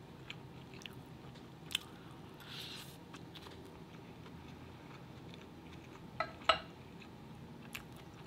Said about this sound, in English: Let me take a couple more bites.